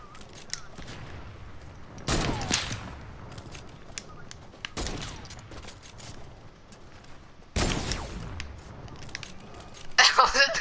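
Sniper rifle shots in the video game Fortnite, several sharp loud cracks spaced a few seconds apart, mixed with other game sounds and a voice talking.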